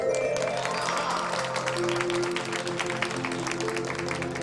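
An audience claps steadily at a night-long devotional Palnaji Mahajagran gathering in Damodar Nagar, a dense patter of many hands that goes on throughout, mixed with music playing in the background.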